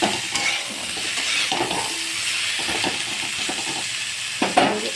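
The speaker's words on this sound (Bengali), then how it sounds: "এবার এটাকে ভালো করে নেড়ে করে ঢেকে দেবো।" Spiced food with turmeric is stirred in a frying pan, a continuous sizzle broken by repeated scraping strokes of a spatula at irregular intervals, close and with no talking.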